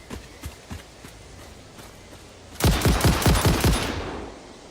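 A few soft taps lead into a rapid, loud burst of automatic gunfire from Satisfactory, about eight close shots in quick rhythm before fading.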